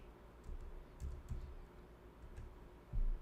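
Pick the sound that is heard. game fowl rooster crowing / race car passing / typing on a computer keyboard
typing on a computer keyboard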